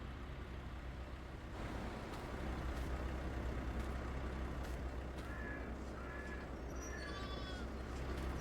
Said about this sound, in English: The little bleats. I love it.